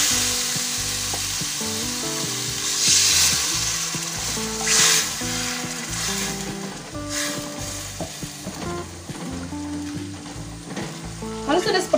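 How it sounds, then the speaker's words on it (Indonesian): Tuna pieces cooking in a rica-rica sauce in a hot pan sizzle loudly and continuously after a splash of water is added, with bursts of crackling and stirring scrapes, no talk. "Lalu saya masukkan sedikit air."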